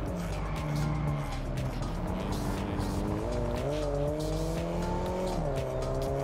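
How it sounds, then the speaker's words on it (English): A car drifts in the Test Drive Solar Crown racing game, its tires squealing steadily over a droning engine whose pitch rises and falls with the slides, loud and continuous throughout. "You can drift, but it just feels proper weird."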